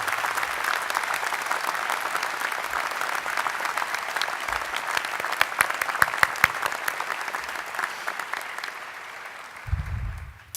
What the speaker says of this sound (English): So let's have a round of applause for parents,